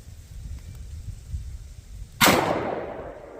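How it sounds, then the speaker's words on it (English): A single sharp gunshot from a Charter Arms Bulldog .44 Special revolver fired single action, a loud sudden crack with a short decaying tail after quiet outdoor background. "I'm going to shoot it single action, see if I can see where it's hitting"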